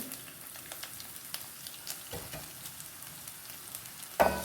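Ginger and garlic fry in coconut oil as the base for a roasted-coconut chicken curry, with a continuous soft crackling sizzle close by and occasional light clatter, then a sharper utensil knock near the end.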